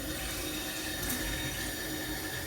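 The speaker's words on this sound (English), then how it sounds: "So let me put some water in this." Tap water runs steadily into a large mug for cooking pasta, a constant close hiss and splash with no pauses and no voices.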